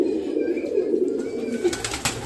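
Pigeons of a sabja-colored breed coo softly indoors in a loft during cold weather, a low steady murmur continuing throughout with faint bird chatter above it.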